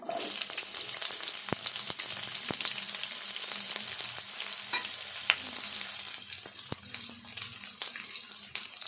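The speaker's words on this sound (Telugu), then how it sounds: "ఇప్పుడు ఉల్లిపాయ వేసుకుందాము" Onion fries in hot oil for a ridge gourd chicken curry, a steady dense sizzle close up with occasional sharp clicks and spoon taps over it.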